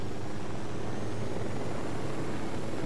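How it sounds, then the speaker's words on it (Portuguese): A helicopter passes overhead in the video game Ghost Recon Wildlands, a steady broadband rotor and engine rumble heard fairly faint and alone for a few seconds. "Ó, tem um helicópterozinho passando aqui."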